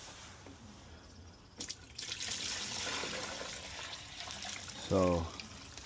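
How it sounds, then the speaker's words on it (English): Mixed animal feed is poured from a bucket into bottles on a farm, giving a steady close rushing pour that lasts a few seconds, with a brief spoken word at the start. "I just pour it right into the bottles"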